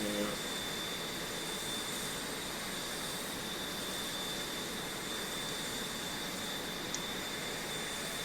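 Steady jet airplane engine roar in flight at about 600 mph in a video game, a constant broadband rush with no breaks and no talk.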